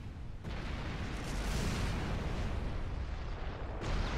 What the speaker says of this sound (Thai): ได้ยินเสียงระเบิดมากมายอยู่ข้างหลัง